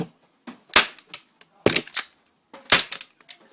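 An airsoft Sig Sauer SP2022 replica pistol firing, with sharp close clacking shots in short clusters separated by near silence, each shot followed by small mechanical clicks.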